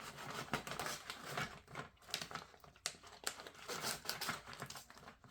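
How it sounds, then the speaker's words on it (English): Close, quiet crinkling and snipping as a plastic custard pouch from a British Arctic cold-climate ration pack is cut open, irregular rustles and sharp clicks continuing throughout with no talk. "the only way I'm getting down in there without making a huge mess is to cut part of this off"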